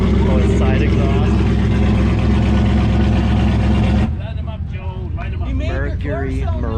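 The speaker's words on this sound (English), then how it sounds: "Oh, his side exhaust." A Mercury Marauder with side exhaust, running on race fuel at a small-town car show, rumbles loudly and steadily up close, its deep engine drone shifting in tone partway through as people talk over it.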